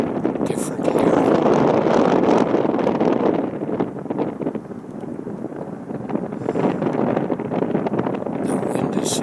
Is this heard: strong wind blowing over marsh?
yes